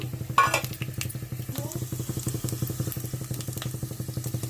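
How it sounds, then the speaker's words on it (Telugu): Steady crackling sizzle of mustard seeds, urad dal and chana dal frying in hot oil for a tempering, with rapid popping throughout and a brief stir or clink near the start. "పోపులు కూడా వేగుతున్నాయండి"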